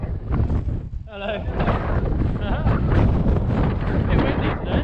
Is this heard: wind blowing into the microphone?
yes